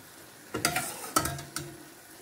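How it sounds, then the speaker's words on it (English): Boiling water is poured into a hot pan of mushroom risotto, giving a few brief hissing sizzles and splashes at close range, with no talking. "I'm just going to add a little bit of boiling water."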